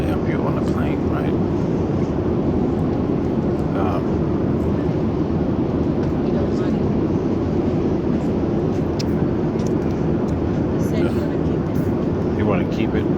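A steady, loud airplane cabin drone fills a passenger flight to the Philippines, an unbroken low roar throughout with faint voices over it.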